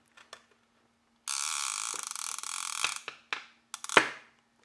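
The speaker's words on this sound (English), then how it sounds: "And it too has a loud clicker." A shuttle surf-fishing reel spooled with braided line gives a loud, fast ratcheting clicker burst lasting under two seconds, followed by a few scattered clicks and knocks, close and alone with no speech.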